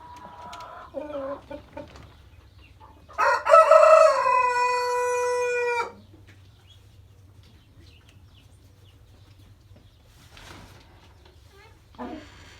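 Chickens and roosters in a backyard coop: a rooster gives one loud, long crow close by, with softer clucking before it and another short call near the end against a quiet background.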